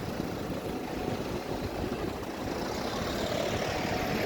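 A steady low tractor engine rumble runs throughout, close by and unchanging, like a heavy vehicle idling nearby.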